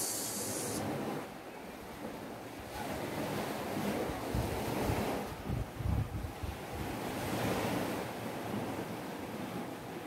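Sea waves wash continuously behind the scene, a broad surf roar mixed with gusty wind buffeting the microphone, swelling and easing over several seconds with no talk.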